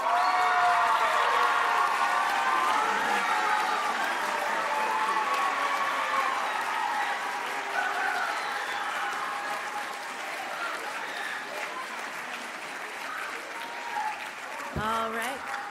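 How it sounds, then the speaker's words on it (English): Audience applause for the vocalists at a school of the arts eighth grade promotion ceremony, a loud sustained round of clapping mixed with crowd noise and cheering that slowly fades, with a brief sharp sound near the end. "Vocalists, please face the audience for a round of applause."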